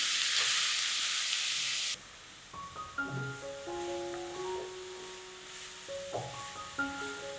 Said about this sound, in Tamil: துருவின கேரட்டை அழகாக இதில் போட்டு இதில் வதக்குங்க.